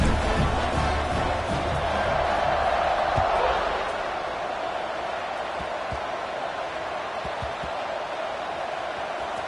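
A stadium crowd in an NCAA football video game roars as a broad, continuous wash of noise that swells early and then settles slightly, with a commentator talking over it.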